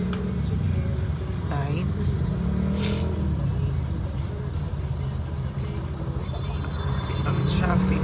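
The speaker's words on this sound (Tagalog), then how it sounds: "Super duper duper traffic sa Commonwealth area." Heavy early-morning road traffic on Commonwealth, a steady roar of cars, buses and trucks idling and creeping along, with engines revving now and then and a voice talking over it.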